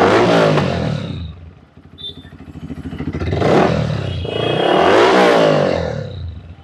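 A second-hand 2019 motorcycle fitted with an original Acrobatic silencer revs in repeated loud surges, rising and falling with a rough, throaty exhaust note close by.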